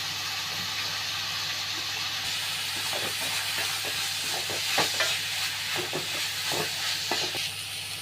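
Onion and grated yellow pumpkin sauté in a pan for a pumpkin adai breakfast batter, giving a steady soft hiss with scattered stirring scrapes and clicks, close by and without talk.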